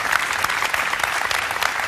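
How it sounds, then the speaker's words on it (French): Audience applause at a Salesforce World Tour Paris conference session, a dense, steady clapping from a full room lasting throughout. "Je vous propose quelques applaudissements pour la qualité de l'intervention."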